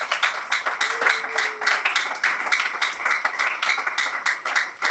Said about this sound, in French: On applaudit très fort pour le roi des rois.